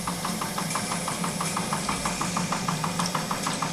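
An old steam engine aboard a model tugboat, running at a steady idle with a regular knocking beat, loud and close, the rhythmic taps repeating evenly throughout with no talk.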